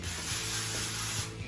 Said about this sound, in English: I'm going to take a little bit of avocado spray and I'm going to spray in the bottom of the pan